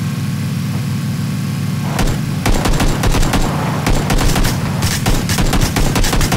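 Rapid bursts of gunfire from a PUBG squad match break out after a couple of seconds, loud and repeated over a steady vehicle engine drone.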